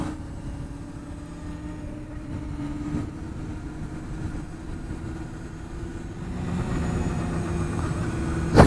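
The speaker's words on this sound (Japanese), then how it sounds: "なんかこのバイクで飛ばすとちょっと怖いな" A Honda Hornet 250 motorcycle engine while riding, a steady mid-pitched drone that swells slightly toward the end and ends on a brief louder burst.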